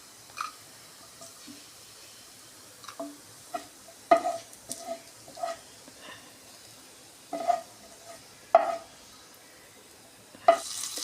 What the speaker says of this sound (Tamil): இந்த மாதிரி கோல்டன் ப்ரௌன் கலர் வர வரைக்கும் நல்லா வறுத்து எடுத்துக்கோங்க